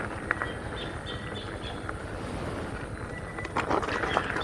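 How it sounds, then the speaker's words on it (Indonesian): Small birds chirping in short scattered calls beside fish ponds, faint against a steady wind-like outdoor hiss, with a few brighter tweets near the end. "suara burungnya"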